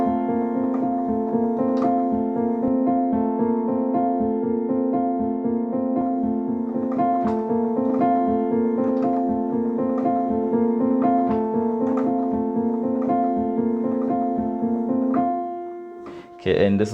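Piano plays the intro riff of a song, a steady repeating pattern of evenly struck notes over a low sustained bass, close and alone, ending in a brief rustle.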